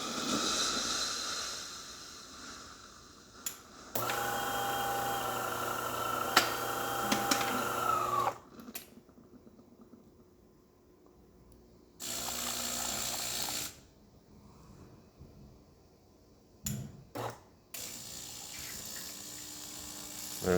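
DeLonghi PrimaDonna espresso machine brewing espresso into a cup: bursts of loud pumping and grinding-like mechanical noise alternate with quiet gaps, starting and stopping several times, with no voices.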